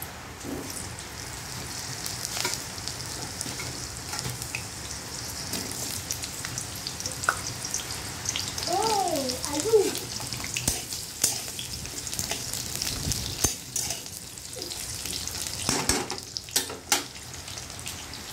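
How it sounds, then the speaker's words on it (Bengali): Potatoes frying in oil in a home kitchen pan after pointed gourd was fried, a steady soft crackling sizzle with occasional louder pops and stirring, moderately near, with no voices. "পটল ভাজা তেলটার মধ্যে একটু তেল দিয়ে এবার আলুগুলো দিয়ে দেবো"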